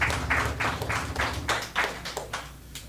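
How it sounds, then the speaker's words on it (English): A small audience at a Shabbat afternoon gathering claps for the children, with distinct, fairly even hand claps in a steady rhythm, close and moderately loud. "So give the Yeladim a round of applause again for the work that they did this month."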